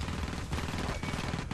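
Rapid gunfire from the Marine's weapon in the video game Alien vs Predator, a dense continuous burst with two brief pauses, loud and close, spanning the whole moment.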